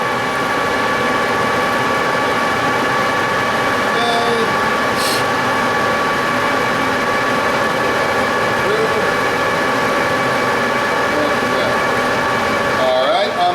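A metal lathe cutting threads with both half-nuts engaged, a loud steady mechanical whir and hum with faint squeaks of the tool, continuous throughout, with a voice speaking over it.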